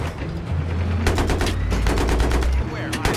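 Rapid bursts of gunfire from an M1 Abrams tank in Battlefield 3 on PC, loud and continuous over several seconds, with repeated sharp shots layered over a steady low rumble of battle.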